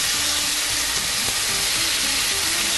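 Bulgogi beef sears in a very hot pan, a dense, steady, loud sizzle with close crackling hiss throughout and no talking.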